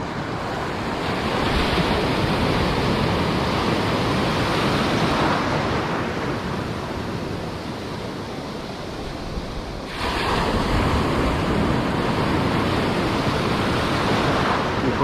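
Ocean surf breaks continuously along a reef's edge during a fishing trip, a loud steady wash of waves with wind buffeting the microphone, briefly easing midway before surging back.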